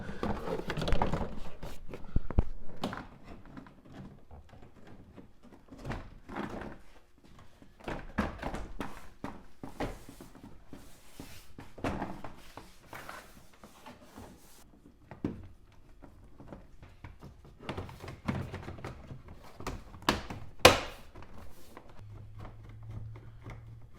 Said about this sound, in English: let's go ahead and reassemble the door panel